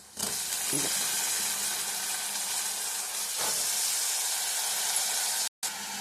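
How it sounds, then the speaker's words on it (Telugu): Chopped ridge gourd hits hot oil and fries with a loud, continuous hissing sizzle, close up and steady for several seconds, broken once by a brief gap near the end. "ఇప్పుడు కట్ చేసిన బీరకాయలు ఆయిల్లో వేసుకుందాం"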